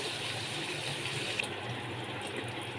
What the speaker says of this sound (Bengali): এবার আমি এর মধ্যে 1 বাটি জল দিয়ে দিচ্ছি।